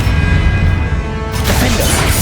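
A Confringo blast is cast during a Hogwarts video game duel: a loud, continuous crashing roar with a sharp new burst of impact noise partway through, and no talking.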